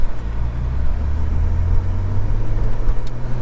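A car driving south along Lake Boulevard, a steady close road rumble and tyre noise with a low engine drone, continuous and fairly loud, no voices.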